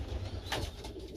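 Pigeons coo softly in a loft with nest boxes, a brief low murmur against steady background noise, with no speech.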